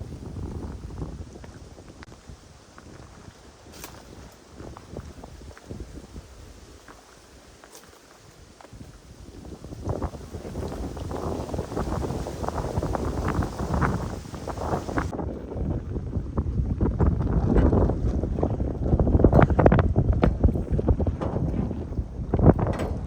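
Strong wind buffets the microphone on an island, a steady roar that swells louder toward the end, with faint thumps and rustles beneath it.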